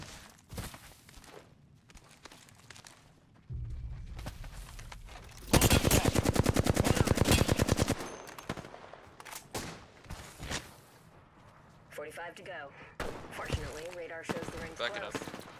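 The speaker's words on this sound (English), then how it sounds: "Taking fire, Bronis." Automatic gunfire bursts from a battle royale video game, with a dense rapid volley in the middle and scattered shots around it, heard beneath players talking over team chat.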